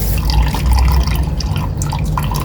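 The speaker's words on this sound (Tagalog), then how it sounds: "Papalit tayo ng tubig na inuman ng mga manok." Water is poured and dripping while chickens' drinking water is changed, a close, loud, continuous splashing and trickling with no talk.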